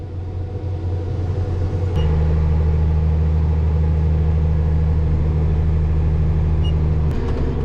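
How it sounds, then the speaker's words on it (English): Two combine harvesters running in a field, a loud steady low engine drone that thickens and deepens after a couple of seconds as the machines bear down, then holds a constant heavy hum. "Both combines are rolling."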